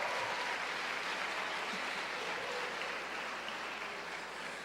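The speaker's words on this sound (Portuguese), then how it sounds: "Dá uma salva de palmas para ela." A congregation at a church service claps steadily throughout, a broad, even wash of applause at moderate distance that fades slightly toward the end, with no talking over it.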